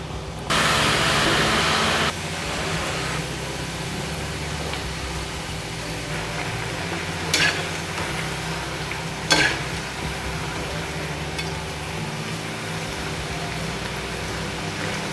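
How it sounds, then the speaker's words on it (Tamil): Diamond-shaped pieces of moong dal dough frying in hot oil, a steady, fairly loud sizzle that runs throughout, with a brighter burst near the start and a couple of faint clinks from stirring. "நல்லா கோல்டன் ப்ரௌன் வர வரைக்கும் நல்லா வறுத்து எடுத்துக்கலாம்."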